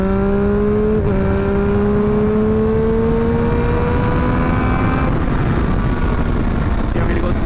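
A Triumph Daytona 765 motorcycle engine hums loudly at speed on slightly wet roads, with a steady drone, wind rush and quick gear shifts that briefly dip and reset the pitch.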